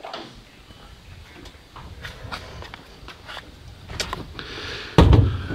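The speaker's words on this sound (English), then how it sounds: "let me close the door here real quick" A door being closed in a barn under construction with new metal installed, ending in one loud thump near the end after a few scattered knocks and creaks.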